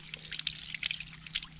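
Water runs steadily from a drinking-water tap at a rural grotto, a soft continuous trickle and splash over a low background hum.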